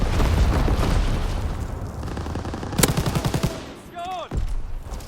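Enemy artillery in Call of Duty WWII: a dense wash of distant gunfire and rumbling blasts, then a sharp close crack followed by a rapid burst of shots, ending in a whistling, falling shell and a thud.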